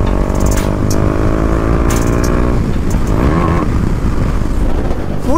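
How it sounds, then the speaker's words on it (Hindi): KTM Duke 390 motorcycle, fitted with an aftermarket exhaust, revving hard at full throttle throughout, a loud, continuous engine note with rising and falling pitch sweeps close to the microphone. "फुल दबाई बाइक है गाइस"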